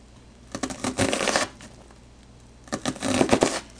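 Knife dicing onions on a cutting board gives two quick bursts of rapid, close chopping taps separated by a short pause.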